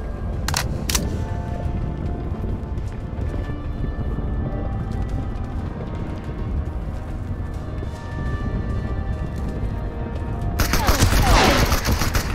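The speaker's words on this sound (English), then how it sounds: "Getting shot by somebody else." Gunfire crackles through a first-person shooter match of the video game Marauders, with a dense, steady loud rumble of game audio, a couple of sharp cracks early on and a harsher, brighter burst of shots near the end.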